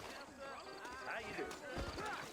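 Horse hooves clip-clop in the Red Dead Redemption video game, a quiet rhythmic trot under people talking, with game music in the background.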